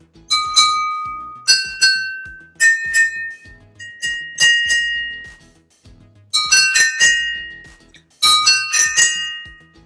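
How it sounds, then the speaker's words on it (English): Drinking glasses filled with different amounts of water are struck one after another in bright ringing clinks, repeated in several short runs of rising pitch, each tone fading out quickly. "it's low here, and it gets higher as we get less water"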